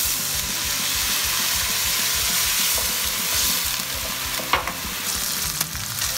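Onion and bacon sizzle loudly in oil in a pan, a steady dense frying hiss throughout with a few scraping stirs near the end.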